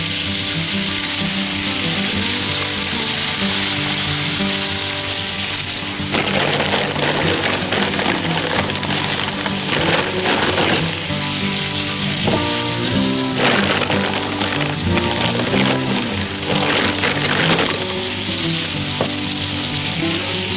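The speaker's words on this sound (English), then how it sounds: "So I try to cook a lot of extra bacon and sausage." Bacon and sausage frying in a pan, a loud, steady sizzle that runs continuously throughout, with occasional stirring and crackle bursts and no talk.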